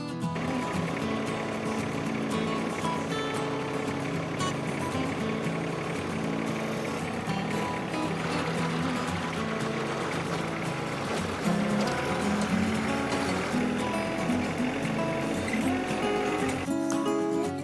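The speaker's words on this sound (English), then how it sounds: "I got the auger on the back of the tractor here, get to drilling some holes" A tractor with a rear-mounted auger drills post holes for a 20x24 post-frame greenhouse build, giving a loud, steady engine drone that runs unbroken for the whole stretch with no talking.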